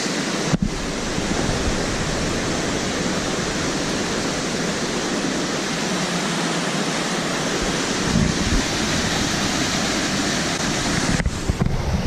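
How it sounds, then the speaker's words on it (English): A river in the Great Smoky Mountains rushes steadily, a loud, constant broadband roar of flowing water close by with no voices. "So I came to this beautiful spot in the river."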